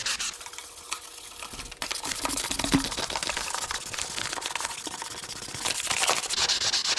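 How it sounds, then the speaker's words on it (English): Fine-grit sandpaper is rubbed by hand over a metal part in quick, irregular scratchy strokes, close up and moderately quiet. "You're not going to take metal off with your fingers doing this, especially with a fine grit sandpaper."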